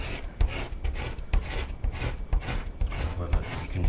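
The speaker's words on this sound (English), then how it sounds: "you can hear how hard I'm scraping this" Heavy, hard-pressed scraping of a watercolour crayon, a rough rasping rub repeated in quick strokes about twice a second, close and steady throughout.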